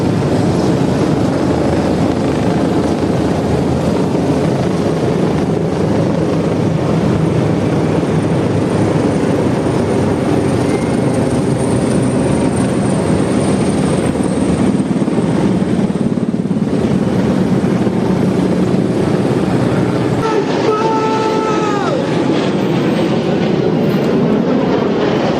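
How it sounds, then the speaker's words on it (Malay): Military helicopters in diamond formation fly over Putrajaya during a National Day parade, making a loud, continuous roar that fills the whole stretch and eases slightly near the end. "Formasi pesawat helikopter dalam gabungan Diamond Formation."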